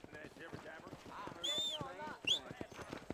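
A horse gallops in Red Dead Redemption, its hooves striking a quick, steady clip-clop rhythm of sharp thuds that runs the whole time beneath voices and other game sounds.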